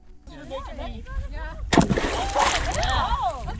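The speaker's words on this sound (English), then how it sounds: "That was a huge splash." A sudden heavy splash in a small shallow pond from a Bigfoot movie crashes in mid-scene, loud and close, amid spoken movie dialogue and water sloshing afterward.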